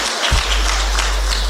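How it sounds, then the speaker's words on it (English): An audience applauds at a business talk, dense continuous clapping over a low steady hum, loud and sustained. "And you should give yourselves an applause."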